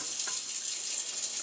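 Water from a tap pouring into a pot holding jars for a dipping tobacco recipe, a steady close hiss of running water over a brief stretch with no talk.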